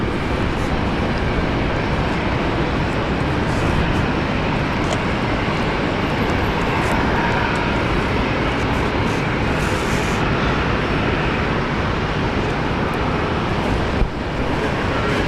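A Qantas airliner roars down runway 19 left at Brisbane on its takeoff run, a loud, steady, broadband engine rumble that fills the whole stretch without letting up.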